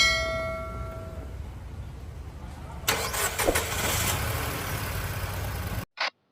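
A Nissan Micra with a temperature-light and cooling-fan fault cranks and starts in a workshop, then settles into a steady idle, with a brief tonal tone beforehand and a short cutoff at the end.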